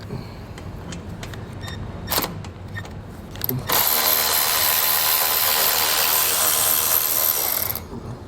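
A ratchet works on 13mm bolts while a Roadmaster Direct-Connect base plate is installed on a 2022 vehicle. A few sharp mechanical clicks come first, then a loud, steady whirring rattle of tool mechanism that runs for about four seconds and stops.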